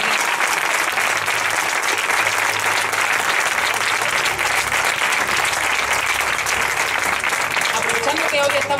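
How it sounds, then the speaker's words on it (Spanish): An outdoor audience on a seaside promenade gives loud, sustained applause for the percussionists of a youth band, clapping densely throughout while a voice speaks over the clapping. "fuerte aplauso para los platillos con David."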